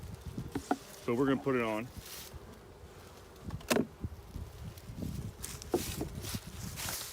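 Honeybees buzz faintly around an opened hive during a first spring inspection, a soft insect drone with scattered handling knocks and footsteps, and a person talks briefly near the start.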